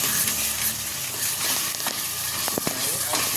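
Tomato paste is stirred into frying pav bhaji in a pan, with a dense, continuous sizzle and frying hiss and scattered soft scraping from the mixing.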